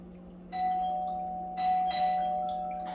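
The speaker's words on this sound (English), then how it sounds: "By knocking on the door, ringing the doorbell" A doorbell chimes twice, a ringing two-tone ding with a lingering hum, clear and close with no voices.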